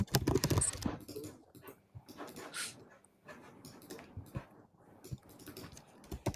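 Quick clicking keystrokes on a computer keyboard tap away in an irregular, fairly close patter, with a dog panting and whimpering nearby during an online call.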